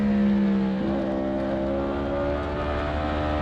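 A Yamaha racing motorcycle on track at the Slovakiaring, its engine holding a loud, steady high tone that steps up in pitch as it accelerates through the gears.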